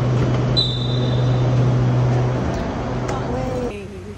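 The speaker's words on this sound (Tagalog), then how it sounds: "Ayan, parating na yung train." A metro train pulls into an MRT station in Thailand with a steady low rumble and a thin high brake squeal, over a busy platform hum.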